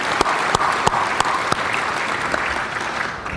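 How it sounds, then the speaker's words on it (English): Conference attendees at an awards event give a round of applause, dense clapping with a few sharp, close individual claps punctuating the steady wash. "So if we could just give them a quick round of applause for their participation."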